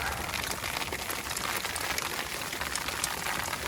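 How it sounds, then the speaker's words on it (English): Hail and rain fall outside an RV, heard through a bedroom window screen as a dense, steady hiss of pattering drops at constant strength throughout, with no voices. "It's hail, but also rain."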